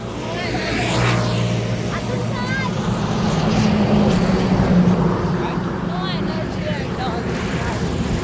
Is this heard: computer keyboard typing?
no